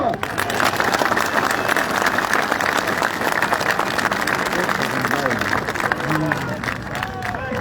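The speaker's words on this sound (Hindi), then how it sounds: "शहरियार के लिए तालियां" A large outdoor political rally crowd at a PTI power show in Kohat applauds and cheers steadily, a dense continuous roar of clapping mixed with crowd babble and shouts throughout.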